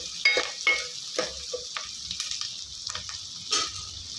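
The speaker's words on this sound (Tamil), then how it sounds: "இப்போ பாருங்கள் வெங்காயம் நல்லா வதங்கிடுச்சு" Whole sambar onions (shallots) sauté in a pan for a village-style karamani kuzhambu, giving a soft hiss of sizzling oil broken by several sharp scraping stirs and light clinks, close and brief.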